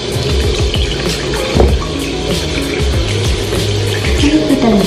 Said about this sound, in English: So I'm just gonna wash my face.